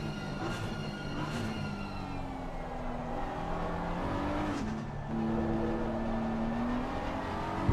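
Race cars circuit the Silverstone track during a pro-am championship round, engines droning steadily with rising and falling pitch as they close under braking, a continuous loud mechanical roar from start to finish.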